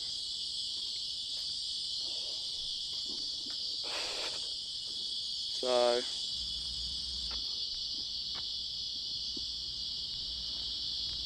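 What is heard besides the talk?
cicadas chirping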